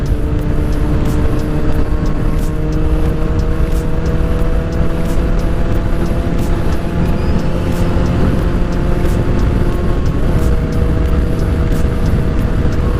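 A Honda F4i sport motorcycle rides along a trail, its engine humming steadily with strong wind roar throughout and faint regular ticking on top.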